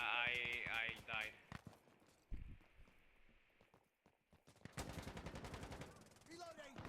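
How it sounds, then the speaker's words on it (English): Rapid gunfire bursts and single shots crack in a tactical shooter match of Insurgency: Sandstorm, mixed with in-game footsteps and faint effects, while players talk over the action. "I hear gunshots."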